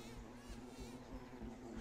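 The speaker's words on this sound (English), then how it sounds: "Oh, bees, I hate bees." Bees in the Winnie the Pooh's Rumbly Tumbly Adventure video game make a faint, steady buzzing drone with slight pulsing, low in level.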